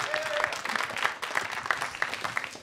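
Studio audience applause during a live radio interview with a band, a small group clapping in a close, uneven rhythm, with individual claps clearly distinguishable, over a couple of seconds.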